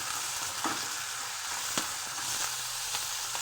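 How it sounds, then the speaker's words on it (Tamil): Ingredients for pirandai chutney frying in oil over medium flame, a close, continuous sizzle with a few light stirring taps, no talk. "மீடியம் ஃப்ளேவர் வச்சு எல்லாத்தையும் போட்டு ஆயில் ஊற்றி நல்லா ஃப்ரை பண்ணணுங்க"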